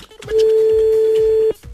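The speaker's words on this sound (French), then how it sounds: "Attention, on fait sonner le téléphone." A telephone dialing tone before a radio call, a single loud steady beep held for over a second, close and clear.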